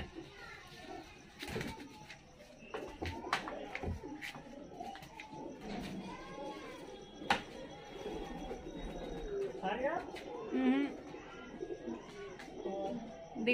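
A pigeon coos softly in a quiet outdoor spot, with low murmuring calls scattered through background chatter and a voice.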